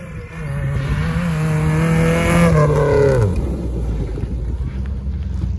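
A turbocharged off-road car at a sprint off-road event revs hard on slippery grass, its engine whine climbing to a peak before the pitch drops off, loud and close, with wind buffeting the microphone.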